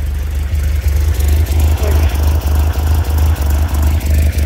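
A 1978 MGB GT rubber-bumper model idles through a partly fitted Bell stainless steel exhaust, a deep, steady rumble that pulses in a regular low throb, close and fairly loud, with no talking.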